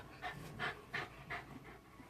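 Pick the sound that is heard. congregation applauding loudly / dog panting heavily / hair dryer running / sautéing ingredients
dog panting heavily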